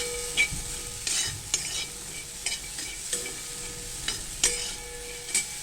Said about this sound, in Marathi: हे चणे आता तिखट आणि मीठ टाकून मी परतून घेते